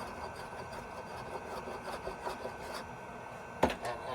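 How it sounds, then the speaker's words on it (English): A small Japanese hand plane fitted with a razor blade shaves thin curls from wood in a surfboard shaping room, giving soft repeated rasping strokes at close range, with one sharper knock near the end. "This is a little hand plane that I found in Japan that uses a razor blade"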